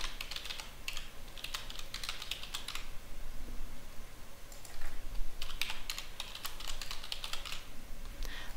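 Someone types a username on a computer keyboard: bursts of quick, light key clicks, close and fairly quiet, broken by a short pause midway, with no voices.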